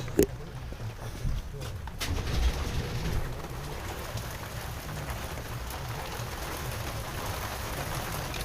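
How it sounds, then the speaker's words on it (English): A light rain shower falls downtown in February, a steady hiss of raindrops on surfaces that fills the clip. A few sharp knocks stand out near the start, and the rain stays moderately loud and constant throughout. "just had a tiny rain shower downtown,"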